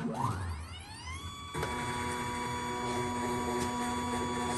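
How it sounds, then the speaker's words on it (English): A machine clamps the two halves of a prototype plastic golf tee mold together: a whining motor tone climbs in pitch for about a second, then abruptly gives way to a steady, close, droning mechanical hum with faint clicks, with no talking. "So the machine is clamping together right now."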